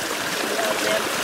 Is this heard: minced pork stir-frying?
no